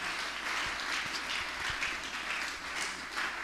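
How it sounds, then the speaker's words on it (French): A church congregation applauds the Lord with steady, dense clapping that fills the room evenly throughout, loud and continuous with no pauses or speech. "Est-ce que nous pouvons acclamer le Seigneur?"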